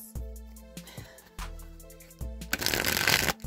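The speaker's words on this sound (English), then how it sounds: "pull a few cards here." Tarot cards being shuffled by hand, a few quick riffling bursts and soft card slaps at close range, quiet and with no talking.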